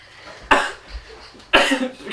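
A smoker's cough comes twice, each a sharp, raspy burst followed by a short rough tail, close and alone, about a second apart.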